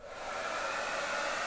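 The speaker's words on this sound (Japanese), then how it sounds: "使うのはドライヤーです。" A hair dryer pointed upward blows air in a steady, even whoosh with a faint whine, close and unbroken, with no talking over it.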